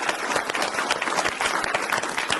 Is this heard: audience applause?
yes